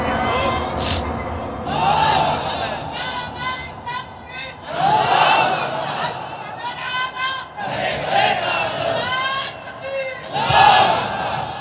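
A large outdoor political rally crowd in Jhikargacha, Jashore, shouts a takbir slogan in unison, repeated loud waves of massed voices cheering and chanting, answering a speaker.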